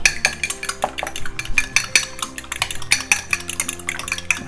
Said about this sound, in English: 2 eggs are going to go in here, and we're going to beat them up.